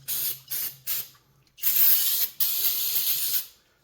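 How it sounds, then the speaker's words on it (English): Brake cleaner hisses from an aerosol can during a Kawasaki FR730V engine rebuild, first in three short bursts and then in two longer, loud continuous sprays, close up with no talking. "I always wonder why brake clean comes out so fast"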